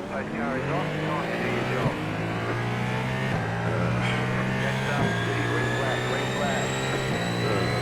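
Hypercar engines at a race start at the Nürburgring in the iRacing game: a loud, sustained engine drone with steady harmonic tones and rising pitch as the cars accelerate together, constant in level throughout.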